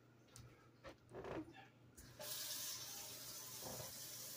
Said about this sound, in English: let me wash my hands so I can put these in the oven.